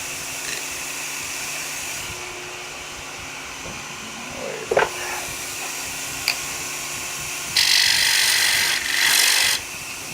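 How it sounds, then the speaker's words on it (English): Wood detail tool cutting a natural edge mesquite piece turning on a lathe, a steady low whirring hum with brief scraping bursts and a longer hissing cut near the end. "what I'm going to do is detail my bottom with my Easy Wood tool, a detail tool."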